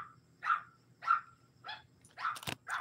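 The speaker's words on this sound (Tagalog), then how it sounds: "Maingay kasi yung aso ko." A dog barks repeatedly in short, evenly spaced yaps, fairly close, with a sharp knock or thud near the end.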